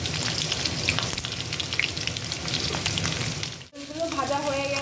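Eggplant pieces frying in a little hot oil, a dense close sizzle and crackle that briefly drops out before a voice speaks over the returning hiss.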